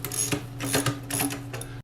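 A power driver whirring in short bursts as T30 Torx screws come out of the bottom access panel of a 2018 Yamaha Sidewinder snowmobile, close and steady with a low motor hum underneath.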